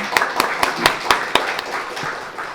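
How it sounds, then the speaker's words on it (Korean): Applause rises in a Korean church during a youth dedication worship service: a handful of sharp, distinct claps spaced apart over a faint room murmur, fairly close and moderately loud. "우리 하나님께 영광의 박수를 한번 올려드리겠습니다"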